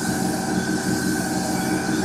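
A sewer jetter pump engine runs at high pressure with a steady, loud mechanical drone and strong tonal hum, holding constant through the short stretch with no voices.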